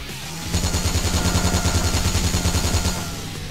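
Loud, rapid automatic gunfire rattles in a sustained burst lasting about two and a half seconds in the zombie action game Yakuza: Dead Souls, then stops over a dense background of game noise.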